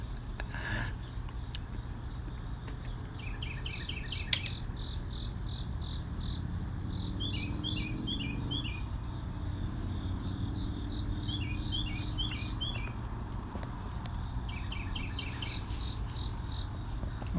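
Birds sing outdoors in the background: repeated short chirping phrases recur in clusters over a constant chorus of crickets and low ambient hum, fairly faint and distant, with no voices.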